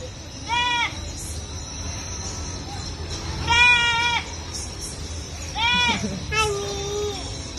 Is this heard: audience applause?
no